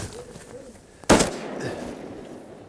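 A single shotgun blast rings out during an Arkansas duck hunt, a sharp loud crack with a short echoing tail over quiet outdoor background.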